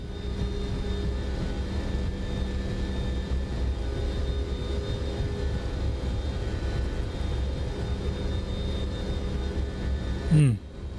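A Boeing 727 rolls down the runway for takeoff in Microsoft Flight Simulator 2024, a steady loud jet engine roar with a constant whine, ending in a brief sharp sweep near the close.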